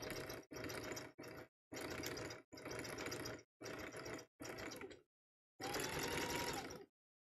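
A sewing machine stitches a bigger rope basket in short bursts of whirring, clattering mechanical runs broken by brief pauses, with one longer final run, close and fairly quiet.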